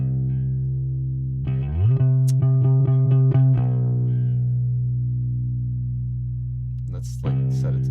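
Gritty, distorted bass guitar notes, a sustained low tone with a quick run of plucked notes, then ringing out before a brief final phrase.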